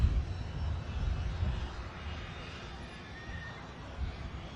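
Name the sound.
jet airliner flying near Manchester Airport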